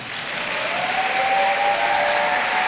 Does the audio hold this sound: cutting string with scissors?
no